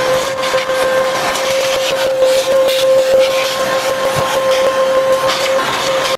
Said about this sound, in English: you're gonna wanna vacuum or blow out all of the dirt that's right here in front of the intake manifold